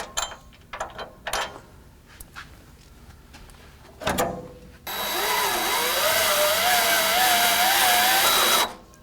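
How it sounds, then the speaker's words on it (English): A power drill whines steadily for several seconds, its pitch wavering as the bit bites through the sheet metal of a 2015 Jeep JKU fender, after a few scattered clicks and knocks. "Now I can feel the drill bit starting to pull through the back piece of the sheet metal."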